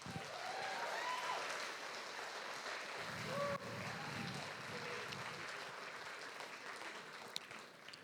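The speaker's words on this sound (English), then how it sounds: "Give a big round of applause to Phil." Audience applause at a trade union event, steady clapping that holds evenly throughout, faint and distant with a roomy wash.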